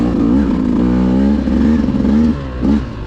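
Beta 200 dirt bike engine in second gear on muddy ground, a close, loud engine with harmonic revs that wind down and burble under engine braking, then a brief pickup near the end.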